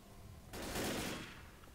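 A sudden burst of rapid gunfire in the zombie shooter game Left 4 Dead, starting abruptly and then fading over about a second, with no talk over it.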